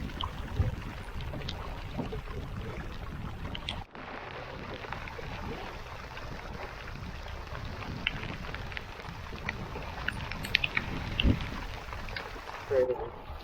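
Steady heavy rain drumming on a canoe's hull on a big Adirondack lake, a dense constant patter with occasional louder knocks and splashes, close by.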